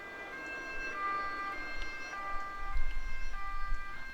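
An ambulance siren wails in the video game Hitch a Hike, with repeating tones at moderate volume over a low rumble of game noise.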